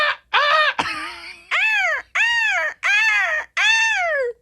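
A person imitates a seagull call on a radio morning show. Six long, loud, wailing squawks rise and fall in pitch, with brief gaps between them and no other talk.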